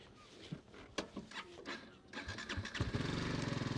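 A BMW 310GS motorcycle fitted with a Rally Raid kit cranks with a few clicks and clunks, then catches and settles into a steady, raspy, pulsing idle, close and growing louder.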